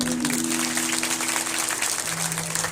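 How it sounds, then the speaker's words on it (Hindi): An audience applauds at a Shrimad Bhagavat Katha gathering in Phagi, Jaipur. The sustained, dense clapping holds steady throughout, with a low droning tone running beneath it. "एक बार ताली बजाओ।"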